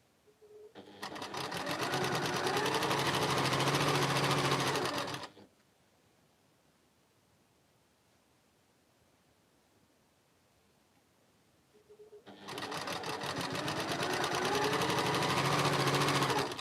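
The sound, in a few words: sewing machine stitching quilt block seams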